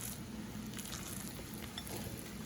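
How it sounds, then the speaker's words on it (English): Lasagna filling being mixed in a bowl, a steady wet stirring and churning that runs continuously and fairly loud, with a dense, even texture and no speech. "just keep on mixing it just like that"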